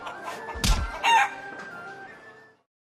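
A chicken at a Hong Kong fresh market lets out a loud, strained squawk and crow up close, over steady market background hum that fades out at the end.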